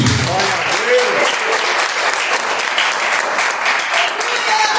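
A church congregation applauds in a loud, continuous burst of many hands clapping together, with voices calling out and cheering over the clapping throughout.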